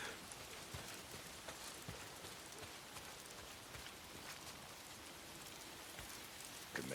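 Rain falls steadily in the video game Days Gone, a faint, even hiss of drops pattering on surfaces that continues without a break.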